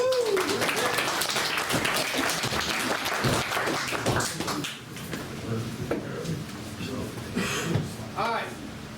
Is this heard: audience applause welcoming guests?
yes